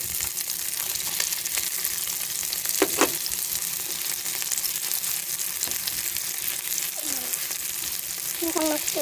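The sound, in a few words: onions frying in a pan for pancit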